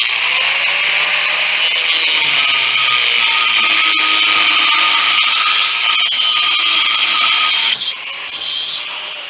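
A power saw cuts through a mushroomed steel square that was used as a drift to beat out axle bearings, giving a loud, steady grinding rasp for about eight seconds before it briefly dips and resumes.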